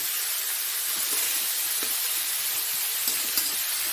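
A whole tomato hits a hot pan and sizzles with a steady, bright hiss of frying that stays even throughout, close and fairly loud.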